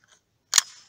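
Bolt of a Winchester SX3 Sporting 12-gauge shotgun released with a single sharp metallic clack, close and loud after a faint tick, briefly ringing out.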